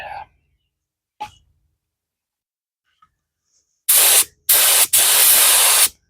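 A DeVilbiss paint spray gun with a T110 cap spraying an epoxy coat on a one-ton truck bed: after a couple of brief faint noises, three loud bursts of harsh hissing spray, the last one long and sustained.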